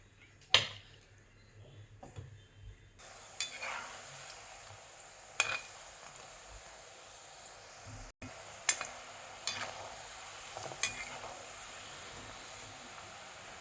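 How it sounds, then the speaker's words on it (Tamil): Spicy rice balls frying in hot oil, a steady soft sizzle and hiss with occasional clinks of a utensil against the pan, close and fairly quiet with no talking. "இதே போல் மீதியும் நமக்கு ஃப்ரை பண்ணி எடுக்கலாம்."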